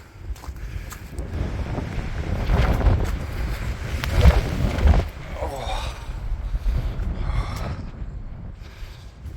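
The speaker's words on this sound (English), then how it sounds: "Now we should get a bit of respite from wind in here." Strong wind gusts roar and buffet the microphone on open Saddleworth Moor near a roofless ruined cottage, a continuous rushing blast that swells and eases, with faint talk beneath it.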